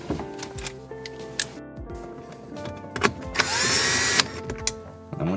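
A cordless power tool whirs in short bursts and one sustained run while bolting a car radio back into the dash of a Chevrolet SS, among clicks and rattles of the install work.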